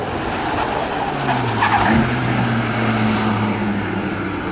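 Race cars roaring past at a spectator drag race, loud engines sweeping by close with a rising and falling pitch as they pass, a continuous powerful drone without talk.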